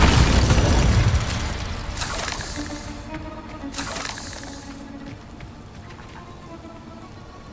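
A Confringo blasting curse goes off in Hogwarts Legacy, producing bursts of crackling, rushing blast noise over a rumbling, decaying background, with two sharper hits a couple of seconds apart.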